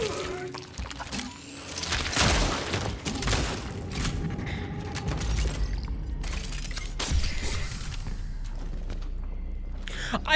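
Handgun shots in the survival horror game Cronos: The New Dawn: a few separate sharp reports spaced seconds apart, amid ongoing in-game noise and rumble.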